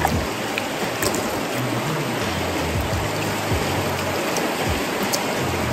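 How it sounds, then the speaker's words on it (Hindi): Running stream water at a campsite near Melbourne, Australia, makes a steady, dense rushing and babbling that stays close and even throughout, with no talking. "ये चलता हुआ पानी तो यहाँ पे बहुत अच्छा दिख रहा है"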